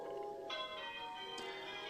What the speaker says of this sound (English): You are now hearing half-muffled bells.